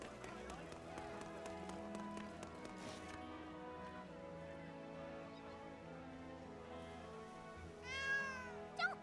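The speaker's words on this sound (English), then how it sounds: "It's just a cat!" A cat meows in the back streets of Seed Hollow in the video game Granblue Fantasy Relink, a short call heard over game music and footsteps near the end.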